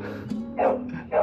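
Two or three barks from a dog, close by, each a short sharp burst over a low steady hum.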